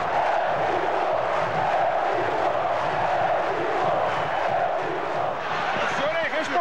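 A full football stadium crowd of Vasco supporters roars and chants continuously, a dense, loud wall of voices with rising shouts toward the end.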